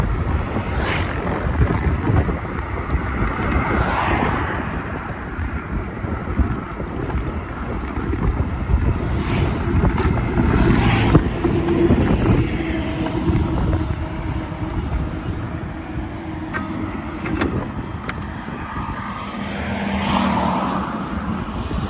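A Hero Electric Optima electric scooter with a rear hub motor runs at top speed on an open road, a continuous loud rush of wind and road noise with no engine note.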